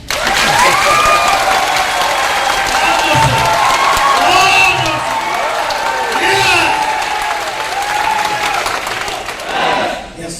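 A loud, close audience breaks into clapping mixed with cheering and whoops at a motivational success seminar, the noise swelling and then easing toward the end while shouting voices ride over the claps.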